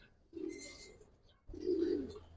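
A male Giribaz pigeon of the Palla line coos twice, a low throaty call near the start and a louder, longer one after a short pause, close by and with no talking.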